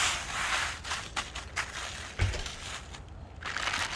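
Plastic packaging crinkles and crunches in several close bursts as a Fox Racing suspension shock is unwrapped, with one sharper thump midway.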